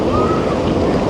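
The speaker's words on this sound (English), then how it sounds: "if you can look and see how hard the waves are breaking against these rocks over here" Ocean waves breaking hard against rocks on a Curaçao shoreline, a steady broadband wash of surf with wind buffeting the microphone, loud and continuous throughout without a clear individual crash.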